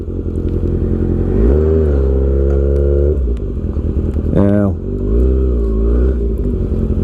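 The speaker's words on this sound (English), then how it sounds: "rolling to a stop with this new exhaust system sounds cool" A 2019 Kawasaki Ninja ZX-6R with a full M4 GP exhaust system rumbles at low revs while rolling to a stop, blips the throttle once with a quick rising rev, then settles back to a steady idle.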